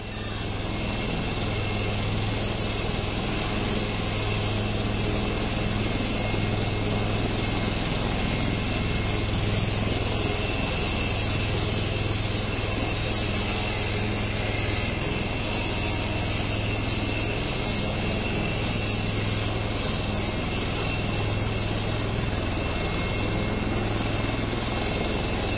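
An Indian Air Force light combat helicopter at Jodhpur, its steady loud rotor drone and engine whine continuing unbroken and close throughout, with no other sounds over it.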